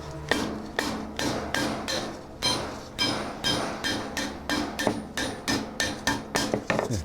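A tinsmith hammers galvanized sheet metal to shape a small stovepipe, striking in a steady, loud, ringing rhythm of closely spaced metallic blows heard close up for several seconds.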